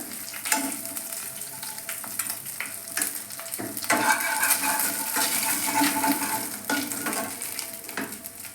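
Panch phoron spices hit hot oil left from frying hilsa fish, crackling and sizzling loudly in close, uneven bursts alongside stirring and scraping in the pan, with no one speaking.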